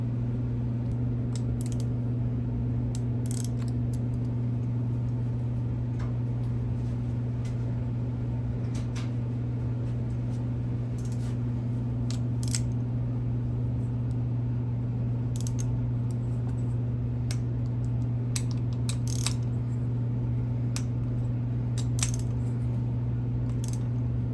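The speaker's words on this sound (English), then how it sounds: "I'm going to use a 1/4 inch torque wrench" A 1/4 inch torque wrench tightening bolts on an XR/CRF100 engine build with a 145 stroker kit, scattered sharp metallic clicks and light tool taps over a steady low electrical hum, close by and without talk.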